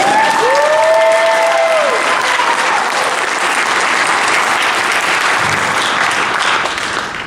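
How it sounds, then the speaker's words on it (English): Steady, loud applause from an audience at a panel with the cast of a horror film, a sustained wash of clapping that holds even and begins to fade only at the very end, with a brief whistle early on. "So a big round of applause for Pancho for really bringing it."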